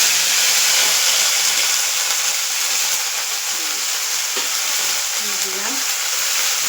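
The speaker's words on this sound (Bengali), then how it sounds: "এই যে কড়াইতে তেল বসিয়ে দিয়েছি" Oil fries steadily in a kadai while a sajna (drumstick) flower chorchori is started, giving a continuous loud, even sizzle with a few faint stirring knocks near the end.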